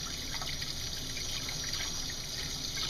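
Toothbrush rinsed under a running tap while cleaning a denture, with a steady faint trickle and splash of water running throughout and no speech.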